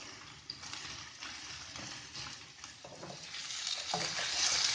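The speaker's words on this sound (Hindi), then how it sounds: "बस अब साथ ही इसमें सबसे पहले आलू डाल देने हैं और ये फूल गोभी डाल देनी है।" Potatoes and cauliflower florets frying in a pan, a steady loud hiss and crackle of hot oil with intermittent stirring scrapes, growing slightly louder toward the end.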